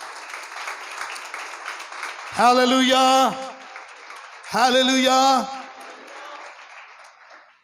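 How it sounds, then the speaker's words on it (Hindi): A church congregation applauds, giving steady, continuous clapping that runs beneath a preacher loudly calling out to the crowd. "जोरदार तालियां यस्सु के लिए।"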